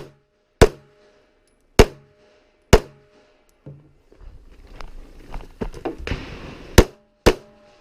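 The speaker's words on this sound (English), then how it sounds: "An extra shot for good measure." Pistol shots ring out at an IDPA shooting match, seven sharp, loud cracks spaced unevenly across the span, with shuffling movement and clatter between the later shots.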